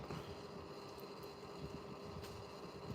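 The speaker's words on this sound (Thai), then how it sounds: "ได้ยินแต่เสียงแอร์แกกแกกแกแกแก" An air conditioner hums steadily indoors on a quiet Sunday morning, a faint, even drone with a thin tonal whine and no speech.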